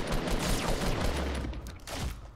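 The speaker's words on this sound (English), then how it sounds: "Is somebody else shooting?" In the Fortnite video game, distant gunfire makes a dense, continuous crackle of rapid shots that stays fairly loud throughout, with no clear talk over it.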